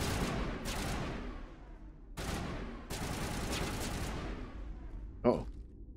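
Rapid bursts of gunfire from the video game Mass Effect crackle across the clip in broadband clusters, with a short sharp shot near the end; a voice speaks faintly in the background.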